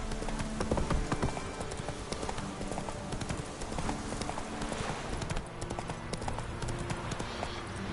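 Hooves of the horse Roach clip-clop steadily in The Witcher 3 video game, a continuous rhythmic trotting that stays close and fairly loud over a busy background for the whole stretch.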